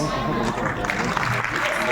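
Students and guests at a school annual function applaud, a dense continuous clapping wash with crowd murmur and some tonal sound mixed in.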